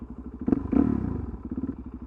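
A motorcycle engine idles and putters at low revs during slow-speed riding, with a couple of dull knocks near the start, fairly quiet and close.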